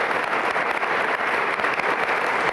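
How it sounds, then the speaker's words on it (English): Loud, dense clapping from an audience honoring young scholarship recipients at a school district awards event, steady and close throughout with no talk. "So let's give another round of applause for our young honorees tonight"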